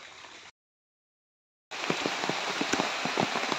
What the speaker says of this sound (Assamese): কালিৰ পৰা হোৱা যি নেৰানেপেৰা বৰষুণ